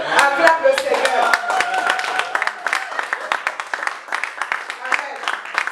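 A church congregation claps and cheers in praise, dense rhythmic hand claps mixed with shouting voices, loud and sustained for several seconds.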